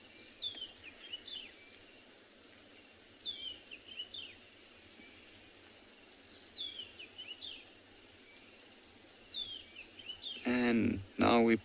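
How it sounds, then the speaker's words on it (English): Birds calling on a sunrise safari at Tswalu, with repeated short chirping phrases at a distance over a steady insect drone, and a louder close burst near the end. "If you do listen to the birds calling in the background"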